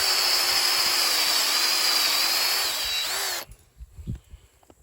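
A power drill runs steadily and loudly close by for about three seconds while fence gates are being installed, its whine wavering slightly as the clogged bit works, then it stops abruptly, leaving faint handling noises.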